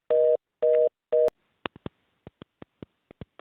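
Telephone tone after a call disconnects: three loud, evenly spaced beeps, followed by a scatter of faint, short clicks and ticks on an otherwise quiet line.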